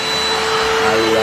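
A Black+Decker Dustbuster Advanced Clean cordless handheld vacuum cleaner runs with a steady, close, loud motor whine and airflow hiss, holding level throughout.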